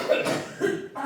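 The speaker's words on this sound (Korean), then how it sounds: "완전히 하모니를 잊고 지금 콜록거리고 있어요." Coughing fits during a Thanksgiving church service, several rough bursts in quick succession, fairly close and loud with a congested, throaty texture.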